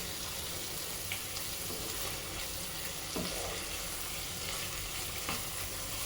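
Ridge gourd and egg curry gets stirred in a pan over a steady soft sizzle, with a few scraping strokes of the spoon standing out faintly.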